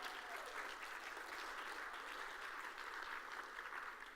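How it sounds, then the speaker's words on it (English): A food summit audience applauds steadily for about four seconds, a dense wash of many hands clapping at a moderate distance with no talk over it. "Let's give them both a round of applause."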